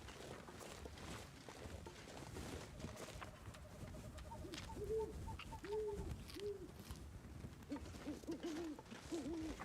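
Bird calls in The Long Dark, a winter survival game: a few soft hooting, cooing notes come and go in short repeated phrases over a steady windy ambience, moderately near.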